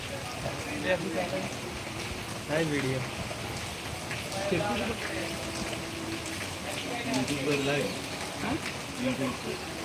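Steady rain falls in Panthawada, a constant hiss of drops on surfaces, with people talking over it throughout.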